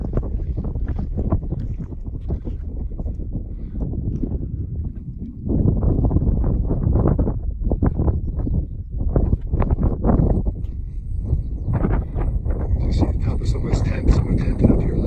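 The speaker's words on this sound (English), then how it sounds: "Probably a little noisy with the wind." Wind gusts across a high mountain bald in the Roan Highlands, rumbling steadily against the microphone and growing louder partway through, with a voice speaking under the buffeting noise.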